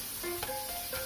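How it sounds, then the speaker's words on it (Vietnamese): Shrimp, squid and clams stir-frying in a hot pan with fried shallots, giving a steady close sizzle with a few brief clinks and scrapes of stirring throughout. "Khi mà cái hành khô đã thơm thì các bạn bỏ tôm, mực, ngao vào xào."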